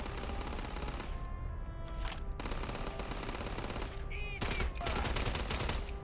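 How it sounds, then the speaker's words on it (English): Video game gunfire in Starfield, rapid bursts of automatic shots over a dense, constant game soundscape, with a brief lull between volleys and a louder burst near the end. "Who's shooting where? What are you shooting at, Sarah?"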